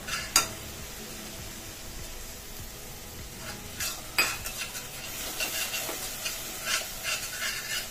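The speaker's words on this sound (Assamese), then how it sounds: "ইয়াতে দিলোঁ আদা নহৰু পেষ্ট এইখিনিও ইয়াৰ লগত ভাজি লওঁ" Onion masala fries with ginger-garlic paste in a pan and is stirred steadily. A low sizzle runs under repeated spatula scrapes and a couple of sharp clanks against the pan, close by and without talk.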